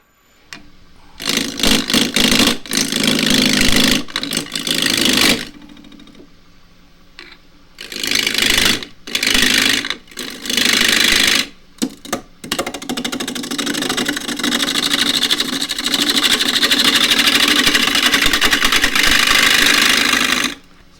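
A wood lathe spins a block of hard spalted wood while a half-inch spindle gouge cuts it, giving loud rough bursts of chattering, grinding noise broken by short pauses, then a longer steady stretch of cutting.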